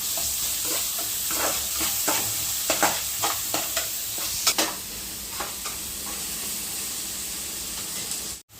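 Ginger, garlic and onion masala fries in a pan, a close steady sizzle broken by repeated scraping stirs of a spoon, ending with a sudden cut.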